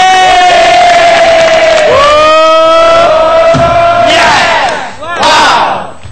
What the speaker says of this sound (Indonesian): Ya udah, tepuk tangan, kasih suara.